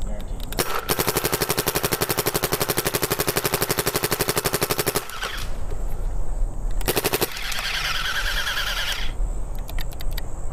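Planet Eclipse Ego 10 paintball gun firing a long rapid burst of shots, then short bursts with gaps, loud and close outdoors, with wind or field noise between volleys.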